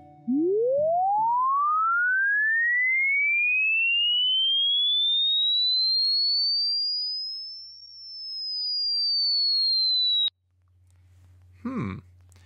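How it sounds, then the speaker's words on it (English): Pure sine tone sampled at 11 kHz sweeps steadily upward in pitch, then folds back at the Nyquist limit and glides downward, loud and continuous, ending abruptly followed by faint background noise. "It sounds like it bounces off the Nyquist rate and then starts descending in frequency."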